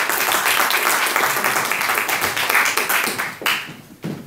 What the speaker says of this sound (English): may I have a big round of applause for Wasif.